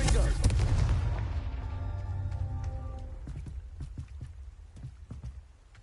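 A Confringo spell in Hogwarts Legacy bursts with a heavy booming explosion that decays into rumbling debris and scattered crackles, loud at first and fading over several seconds.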